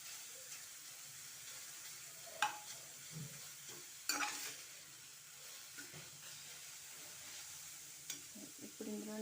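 An ingredient dry-roasts in a pan before sugar and ghee go in, giving a soft steady crackle with a few sharp spoon scrapes against the pan, close by and fairly quiet.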